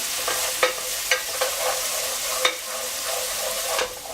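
Garlic browning in a hot pan gives a steady, bright sizzle, broken by a few crisp scrapes of the spoon as it is stirred, close and alone.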